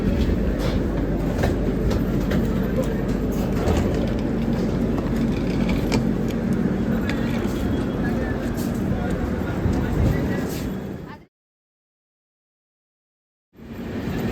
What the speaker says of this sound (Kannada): ನಾವು ಬಂದು ಟ್ರೈನ್ ಹೋಗ್ತಿದೆ ನೋಡಿ ಗೈಸ್